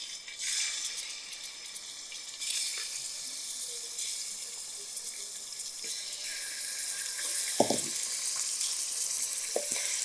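Chicken pieces for Arabic chicken biryani go into hot oil, giving a steady broad sizzle throughout with a brief louder spit near the end; no one speaks.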